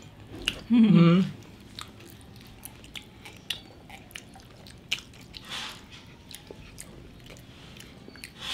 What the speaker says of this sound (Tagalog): Last bite sa bacon.